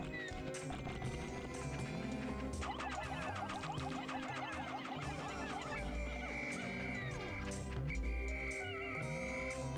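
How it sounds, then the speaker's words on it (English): Pikmin creatures from Pikmin 1 HD chatter, squeak and chirp in a busy, continuous layer over game music, with many short repeating calls. "Listen to the soothing sounds of Pick Guys."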